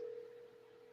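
A telephone line tone on a call being placed, one steady, unbroken tone holding at an even level for the whole moment, close and clear with no voices over it.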